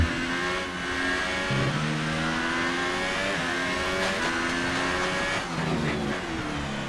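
A Formula 1 car in the F1 2018 video game at the Russian Grand Prix in Sochi screams through the gears, its engine note rising and dropping with shifts and steady high revs throughout, loud and close.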